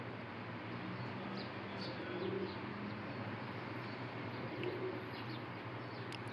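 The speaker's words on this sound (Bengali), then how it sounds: "লক্ষ লক্ষ পায়রা" Many pigeons coo at the pigeon square near the Kaaba, a dense low murmur under a steady crowd and outdoor hum, with faint chirps scattered through.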